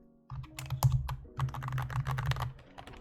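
Fast, close typing on a modded RK61 keyboard fitted with ruby switches and full keycaps gives a quick run of deep, muted keystroke clacks that starts abruptly and continues without talk.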